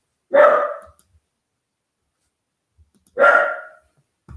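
A small dachshund guarding a house gives two sharp, loud barks close by, separated by a few seconds of silence.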